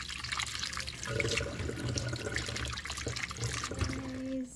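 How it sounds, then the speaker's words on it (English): Frozen veggie shrimp are rinsed under running tap water in a kitchen, a steady close splashing flow with no talk. "So it's frozen. I just want to give it a quick rinse."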